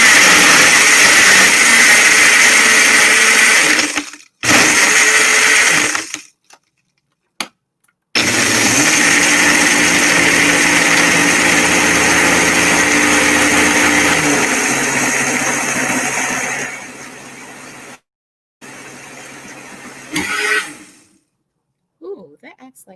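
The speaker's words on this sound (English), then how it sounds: "it sounds like it's all blended up" A blender whirs loudly while mixing a mocha coconut frappe, running in several bursts with short pauses between, the motor pitch shifting as the ice and contents break down, then stopping.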